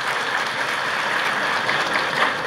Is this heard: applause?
yes